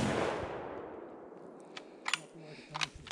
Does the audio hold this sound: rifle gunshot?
yes